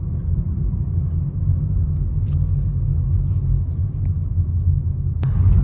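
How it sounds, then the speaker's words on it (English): A big truck hauling a trailer rumbles past on a road, a heavy, steady low engine drone that stays loud and close throughout, with a faint click near the end. "let that big truck and trailer get on by"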